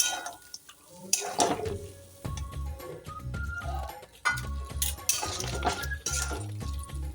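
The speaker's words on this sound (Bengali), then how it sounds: "উষ্ণ গরম জল দেবো অল্প একটু জল দিয়ে" Warm water poured from a vessel into a cooking pan while making shukto, a Bengali mixed-vegetable dish, with clinks of utensils and pot knocks around a steady close pour.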